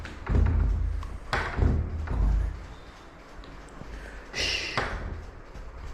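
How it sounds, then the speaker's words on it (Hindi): Knocking on a door inside a room where a fan runs, a few dull thuds spread across the moment with a brief pause between them, and a man calls out once. "ये दरवाज़ा खटखटाने की आवाज़ किसकी है?"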